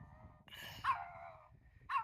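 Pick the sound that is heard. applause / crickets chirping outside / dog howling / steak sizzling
dog howling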